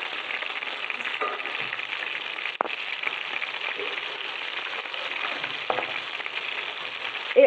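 Food fries in a pan with a steady bright sizzle, close and continuous, broken by a couple of brief clacks as pieces are turned to cook the other side; no one speaks.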